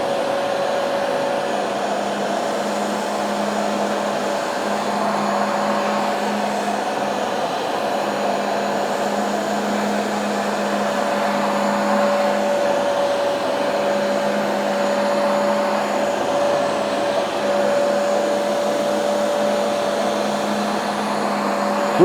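A Bissell TurboClean PowerBrush pet carpet cleaner runs on suction over a messy carpet, giving a loud, steady motor whine with a constant hum that holds for the whole stretch, with no talking.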